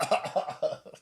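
A person coughs in a quick run of several harsh bursts over about a second, close and fairly loud, with no talking over it.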